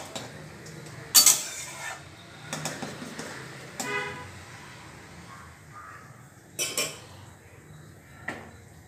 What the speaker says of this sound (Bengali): একটু নেড়ে নিই, নেড়ে দিয়ে ঢাকা দিয়ে দেবো।